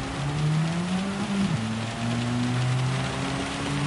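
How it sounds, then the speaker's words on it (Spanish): Heavy rain hisses steadily in the Gran Turismo Sport racing game at the Red Bull Ring, with a race car engine droning and shifting pitch underneath throughout. "Lluvia fuerte ahora."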